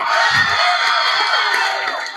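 Audience at a Tamil film first-look launch event for Bomb, a dense crowd roar with cheering and whoops held steady throughout, loud and close, with brief low thumps near the start.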